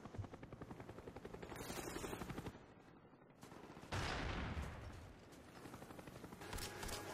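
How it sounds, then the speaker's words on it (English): Video game combat plays continuously: a droning aircraft engine overhead mixed with rapid gunfire bursts and rattling mechanical noise, dense and steady throughout. "Friendly spy plane inbound."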